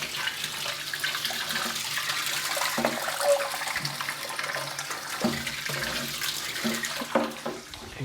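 Running water rinses soil down in a planted aquarium, a loud continuous gushing and splashing that shifts slightly as the flow is moved around the tank.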